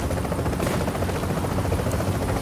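Extraction helicopter in the video game The Division, a steady, loud rotor drone filling the whole stretch with no break and no talk over it.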